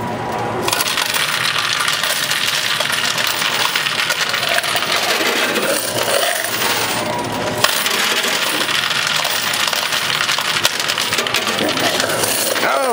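Quarters clattering and cascading nonstop in a high-limit coin pusher tower at an arcade, a loud, dense metallic jingle that runs the whole time with brief surges of heavier spills.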